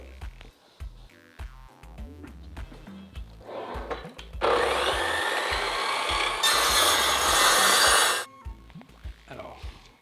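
A hand saw cuts through wood paneling in a burst of steady back-and-forth rasping strokes, preceded by quieter scraping and handling sounds; a voice speaks faintly in places.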